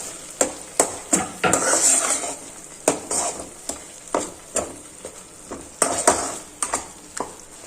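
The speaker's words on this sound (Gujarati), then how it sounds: "એક ડુંગળી સમારીને લીધી છે તે એડ કરી દેશું, મિક્સ કરી દેશું." A spoon stirs chopped onion into a mashed raw mango and tomato chutney in a pan, making a close, rhythmic series of sharp metallic clacks against a soft wet sizzle.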